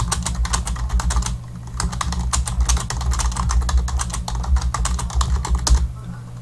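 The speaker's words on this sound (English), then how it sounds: "you can simply begin by typing text right in the box." Steady, rapid typing on a computer keyboard, text entered into a box, with dense clicking keystrokes running throughout, close and fairly loud over a low background hum.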